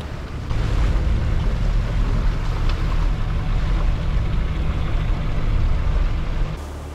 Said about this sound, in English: With the job finally done, we left the shores of Grimsey and set our course towards the next destination.